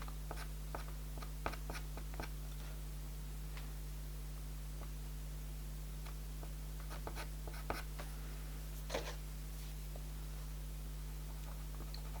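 Pastel pencils drawing on paper in a quiet room, soft scratchy strokes and light taps close to the microphone, faint and intermittent over a low steady hum.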